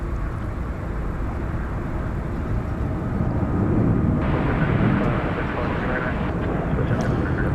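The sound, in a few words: Qantas Boeing 787-9 Dreamliner taking off from DFW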